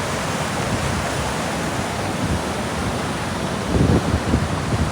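A glacier meltwater stream fed by packed snow flows beneath a small bridge at Sonamarg, Kashmir, a dense unbroken rush of water near at hand that swells briefly louder toward the end.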